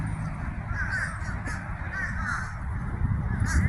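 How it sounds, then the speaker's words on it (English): A flock of crows caws repeatedly overhead, harsh calls overlapping in irregular bursts at moderate distance against a low outdoor rumble. "Look at them birds, man. Look at them."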